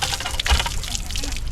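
Cold water running and splashing into a one-liter water bottle being filled outdoors while backpacking in Shawnee National Forest, a steady close trickle and gurgle with no talk over it.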